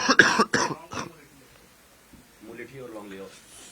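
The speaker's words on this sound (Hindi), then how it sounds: "खांसी बहुत है, तबीयत खराब है" Several sharp, raspy coughs burst out in quick succession, followed by a pause and then quiet talk.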